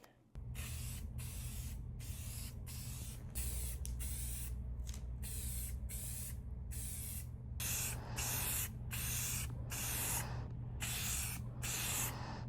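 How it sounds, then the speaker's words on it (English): Repeated hissing bursts of a spray paint can applying a second coat of paint, long sprays broken by brief pauses, close by over a steady low hum. "then I'm going to spray the official second coat of paint"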